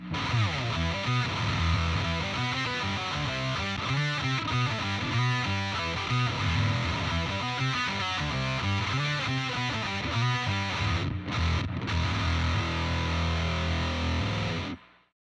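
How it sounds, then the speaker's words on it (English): Heavily distorted electric guitar plays a driving riff for about fifteen seconds, loud and close, ending with a sudden cutoff. "this thing sounds really cool with some distortion in front of it"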